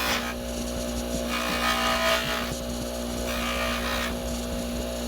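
A moissanite jewelry ring is polished around the head after stone setting, giving a steady rubbing, buffing whir that surges in regular strokes over a constant motor hum, close and alone.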